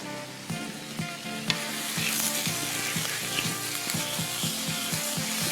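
Frozen beef strips dropped into a hot pot for a stir fry wrap, sizzling and crackling steadily with sharp intermittent pops and spatters, close and fairly quiet.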